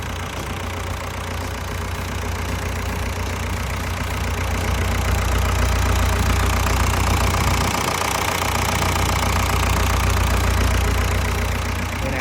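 A Komatsu PC100-6E excavator's four-cylinder turbo diesel engine idles steadily and close by, a low rumbling drone with a faint knocking texture that swells slightly partway through, with no voices.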